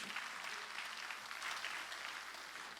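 A church congregation at a Sunday worship service claps steadily together, a dense, even wash of applause filling the room at moderate volume.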